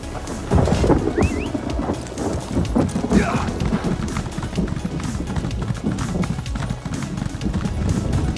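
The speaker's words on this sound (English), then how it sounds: "Hey, look, it's raining." Rain and rolling thunder in a video game, steady rainfall with a low rumble, while horse hooves clip-clop beneath and a voice speaks faintly now and then.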